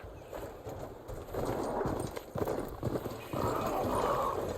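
Hooves clip-clop steadily as a horse runs in Horizon Forbidden West gameplay, a continuous rhythmic beat over a busy background, fairly near and moderately loud.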